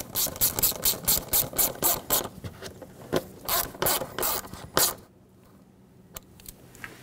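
A hand ratchet tightens a hose clamp in the engine bay of a Dodge Grand Caravan with a 3.6L engine, clicking in quick, close, rhythmic bursts for about five seconds before a few isolated clicks in near silence.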